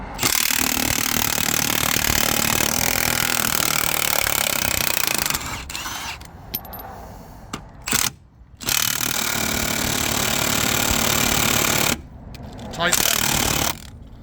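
Work on removing a wheel from a MAN 7.5 ton horsebox, with long loud bursts of a power tool or impact wrench whirring close by, broken by short pauses and a few clanks.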